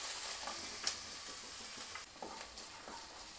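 Three finely chopped onions frying in a pan, a steady soft sizzle with occasional stirring scrapes, moderately quiet and without voices.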